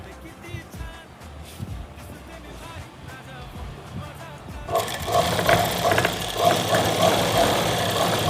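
A sewing machine runs steadily, stitching a straight seam on a salwar, starting about two-thirds of the way in after a quieter stretch with light background noise, its rapid mechanical whirr close and continuous to the end.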